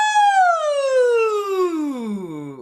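A single voice glides smoothly downward from high to low, imitating a siren in one long sustained sweep with no other sound.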